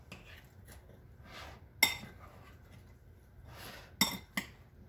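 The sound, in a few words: stirring ambrosia in a bowl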